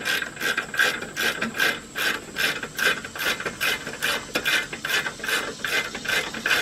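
A hand ratchet with an 18mm socket clicks in a steady, close rhythm of quick pawl bursts while loosening the rear brake caliper bolts on a 2001 Jeep Grand Cherokee Laredo.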